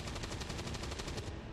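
Rapid gunfire in the video game XCOM 2: War of the Chosen, a tight burst of about a dozen evenly spaced shots, loud and close, with no voices.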